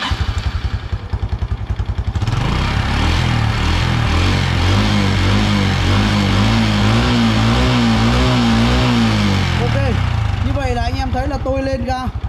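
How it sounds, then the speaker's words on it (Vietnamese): A Honda Blade motorbike starter cranks rhythmically on a weak battery, then the engine catches and revs up and down with a rising and falling whine, close by. "Bây giờ tôi sẽ tiến hành để máy"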